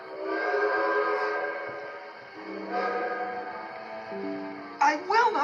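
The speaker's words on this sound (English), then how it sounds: "Wild whistles echoed and bounced off his boiler." Steam locomotive whistle from an animated children's film, a bright multi-tone blast sustained for several seconds, fading and rising again with echoes, with a short sharper whistle burst near the end.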